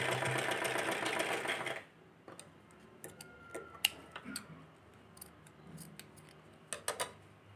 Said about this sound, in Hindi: इसके साथ हम इसको एक सिलाई लगा के फिक्स कर देंगे।